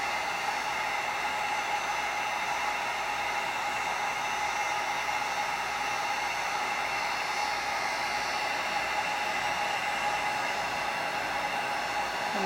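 A heat gun runs steadily and close up as it melts embossing powder for a paper art doll, a continuous airy, whooshing roar that holds even for the whole stretch with no talking.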